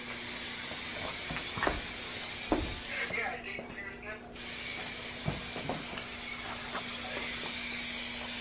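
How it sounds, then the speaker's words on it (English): Spray paint hisses from a can onto a Mazda Miata's fender area, a steady close broadband hiss that cuts out briefly midway, with scattered clicks and faint voices in the background. "I love how I just sprayed in the air."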